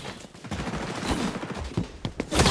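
An AK rifle with a red dot sight fires in XDefiant, producing dense rapid automatic bursts mixed with a few distinct louder shots amid busy game noise.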